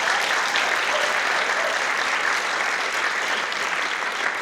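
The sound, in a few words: audience applause for the concert musicians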